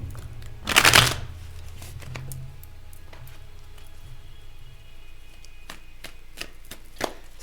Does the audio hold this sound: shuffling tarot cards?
yes